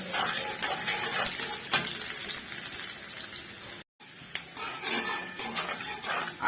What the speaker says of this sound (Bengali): আর আদা রসুনটাকে এখন 3 মিনিটের মতো আমি ভেজে নেব।